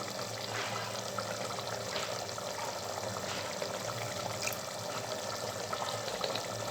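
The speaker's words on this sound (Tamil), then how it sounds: "அதனால் வந்து லெமன் சாறு நான் ஒரு மூடி ஊற்றுறேன்." Liquid is poured into a pot of home-style mutton biryani, a thin steady trickle and splash running continuously for several seconds at moderate volume.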